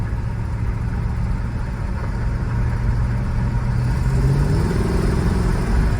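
A 1965 Buick Riviera drives along steadily, its engine droning loud and close, with a rising tone near the end as it shifts from first to second gear.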